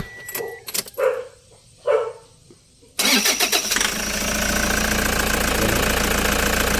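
A car engine cranks and catches after a few clicks and clunks, then settles into a steady, loud idle that runs on without pause.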